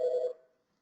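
A telephone ringing during an office webinar: one short, fairly faint electronic ring tone that cuts off quickly and fades away, with no voices.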